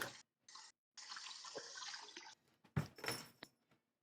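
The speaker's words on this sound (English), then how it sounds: "I am washing dishes." Tap water runs into a sink during dishwashing, coming in several separate bursts of steady hiss broken by short pauses, with a few louder splashes and clatters near the end; no one speaks.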